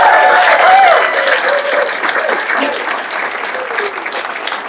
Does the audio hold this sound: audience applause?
yes